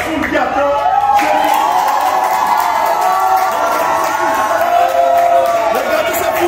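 A large crowd of church members cheers and shouts at the Jesus-Revient church in Yaoundé, a dense, continuous roar of voices with whoops rising over it throughout.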